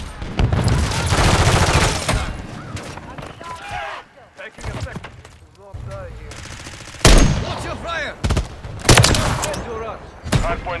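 An enemy remote turret fires in Call of Duty MW3 multiplayer, loud rattling machine-gun bursts in several volleys with gaps between, mixed with other gunfire and an announcer-style voice.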